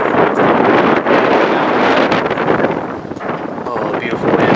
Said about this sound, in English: beautiful wind